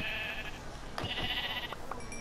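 Sheep in the game Minecraft bleat a few times in quick succession, short wavering calls over a faint steady background.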